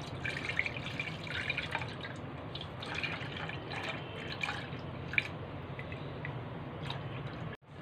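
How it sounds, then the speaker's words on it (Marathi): Cow's milk mixed with jaggery pours into a pressure cooker container in a home kitchen, a steady liquid trickle with a few drips. It runs near and unbroken for several seconds, then stops abruptly at the end. "कुकरचा डबा घेतलाय, त्याच्यामध्ये आता हे ओतायचं।"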